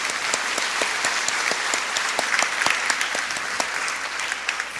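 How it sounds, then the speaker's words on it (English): A room full of people clapping steadily at a graduation ceremony, a dense, continuous patter of applause with no voices standing out. "let's give them a round of applause too"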